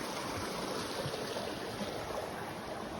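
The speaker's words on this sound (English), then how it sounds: "Pretty creek." Steady broadband rush of a flowing creek, continuous and fairly close, with no voices or other distinct sounds.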